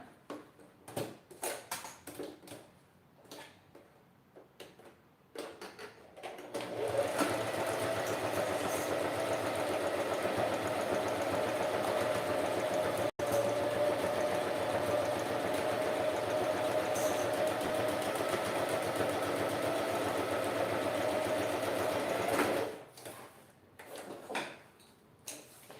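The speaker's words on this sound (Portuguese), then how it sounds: "Então eu vou costurar aqui o outro com um pé de máquina." A sewing machine with a presser foot stitches fabric in one steady, fast run of about fifteen seconds, close and fairly quiet, with brief handling taps and rustles before and after.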